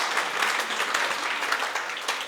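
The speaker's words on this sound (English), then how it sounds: "Round of applause for Noah Yangst." Warm, dense applause from wedding guests welcoming the best man at a Jewish wedding, continuous and lively with scattered individual claps standing out throughout.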